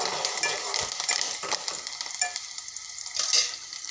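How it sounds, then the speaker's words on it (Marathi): Green and red chillies stir-fry in a pan with softening onions, a steady close sizzle broken by scraping strokes of a spatula, with no voices. "छान मस्त असा कलर येईपर्यंत छान त्याला असं परतून घेणार आहे।"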